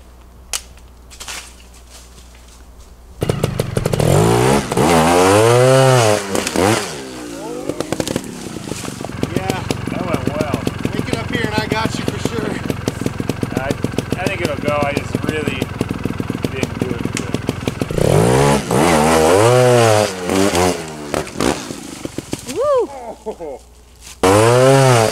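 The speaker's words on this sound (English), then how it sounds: "running the leaf blower up there" A gas leaf blower runs outdoors while trails are cleared for motorcycle trials riding in Wisconsin, a loud, steady engine roar starting after a few seconds and holding for twenty seconds, with revving swells and voices mixed in.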